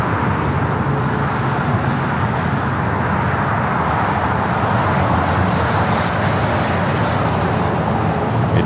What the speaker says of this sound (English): Next takeoff, a flight to Cancun, Mexico, United Airlines, flight 1278,